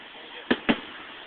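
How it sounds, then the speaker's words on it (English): Two sharp firework bursts a short moment apart ring out over a fisherman's pier at Ocean Grove during a September display, loud and close against a steady background murmur. "And fireworks keep coming."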